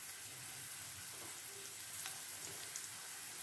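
Capsicum frying in a pan with sausages being added, a steady soft sizzle that stays fairly quiet throughout with a slight swell near the middle, no voices.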